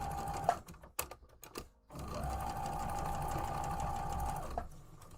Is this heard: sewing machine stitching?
yes